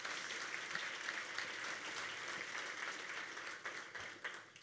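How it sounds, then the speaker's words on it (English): Audience at a South Florida Muslim organizations coalition event applauding a political mentor, a soft, distant wash of many hands clapping, steady and continuous before thinning out toward the end. "Let's give Janet a round of applause."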